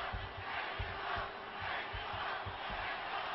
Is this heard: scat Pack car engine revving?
no